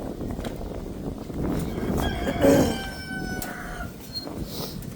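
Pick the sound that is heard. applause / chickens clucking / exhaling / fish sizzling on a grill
chickens clucking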